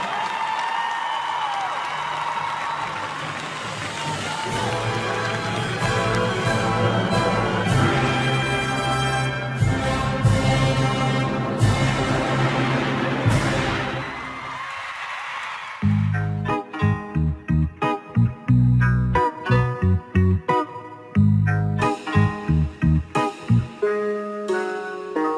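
Theatre audience applause and cheering at a Bulgarian benefit performance, a dense sustained roar of clapping over a musical background that gives way to rhythmic music with punchy beats in the second half.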